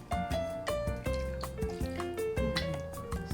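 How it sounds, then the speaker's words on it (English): Marinade is poured over thinly sliced meat in a bowl, giving a run of soft wet drips and splatters in an uneven rhythm, close up and quiet. "let's get a little marinade on there"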